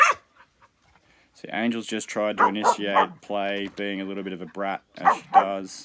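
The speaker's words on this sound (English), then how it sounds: "Sorry about the noise, this dog's barking." A dog barks and yips in short bursts through the opening second and again later, mostly under steady talk from a nearby person; the barking is moderately loud and intermittent.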